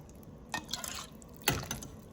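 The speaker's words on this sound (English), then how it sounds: "just grab a little bit, give it a shake, pour it back in there" Tomato sauce is shaken and poured back into a cooking pot for caldo de albondigas, making two brief wet splashy pours with light dripping between them.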